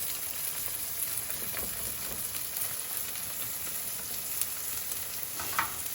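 Potatoes with onions and peppers frying in a pan over a high flame, a steady, fairly quiet crackling sizzle with occasional pops, no voices.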